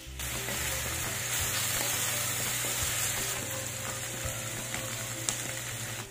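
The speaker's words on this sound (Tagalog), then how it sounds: "At inihalo ko na sa dulo ang napan-fry na patatas at binudburan ng dahon ng sibuyas." Pan-fried potatoes stirred into lemongrass chicken in a hot pan, giving a steady loud sizzle throughout with scraping stir strokes and a few sharp clinks, no talking.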